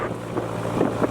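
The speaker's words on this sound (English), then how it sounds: "It's the only boat we've seen on the Thames." A narrowboat engine drones steadily nearby on the River Thames, mixed with gusty wind buffeting the microphone.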